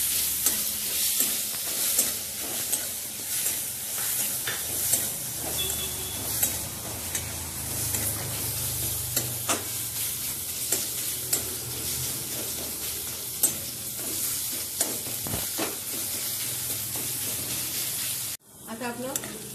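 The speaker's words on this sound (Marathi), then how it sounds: "2-3 मिनिटं परतून आपण लगेच टोमॅटो टाकून घेऊया। तोही परतून घ्यायचा आपल्याला तेल सुटेपर्यंत।" Onion and tomatoes sauté in oil in a pan, giving a continuous loud sizzle with repeated scraping stir strokes, and it stops abruptly at the end.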